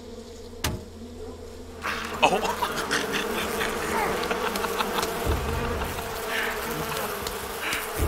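Bees buzz in Far Cry 5's Hope County, a steady insect drone running the whole stretch with game effects and a brief exclaiming voice over it.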